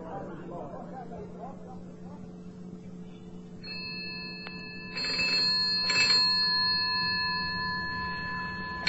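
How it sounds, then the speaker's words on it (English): A telephone rings at night as a radio drama sound effect, an electronic ring in two clear bursts over a steady low hum, fairly close and loud. "who can be phoning at this time of night?"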